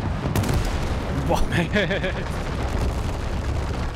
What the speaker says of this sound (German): Er will unbedingt gucken, wie es explodiert.